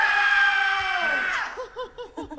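An audience at a folk music festival screams together in a sustained, loud collective shout that falls away, followed by a few short, higher yelps and whoops.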